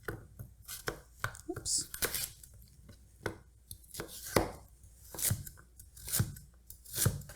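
Knife chopping carrots on a cutting board in crisp, close, irregular thunks and cuts, with a brief spoken exclamation among them.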